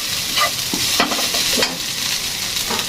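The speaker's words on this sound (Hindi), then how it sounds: "डालती हूँ ये वाला प्याज इसके अंदर मसाले के लिए" Onion frying for bhindi chicken, a steady close sizzle with spoon stirring and scraping strokes against the pan, no talk.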